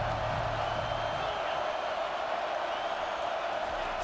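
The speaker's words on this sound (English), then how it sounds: "Decibels rising as the crowd gets behind this defense on third down." A stadium crowd in a college football video game roars steadily on a third down, Texas against Florida. The noise is a dense, continuous wash of cheering with a commentator's voice underneath.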